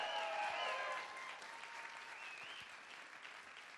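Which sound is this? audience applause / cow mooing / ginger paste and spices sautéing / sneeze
audience applause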